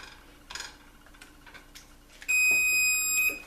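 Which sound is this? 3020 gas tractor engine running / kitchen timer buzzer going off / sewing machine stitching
kitchen timer buzzer going off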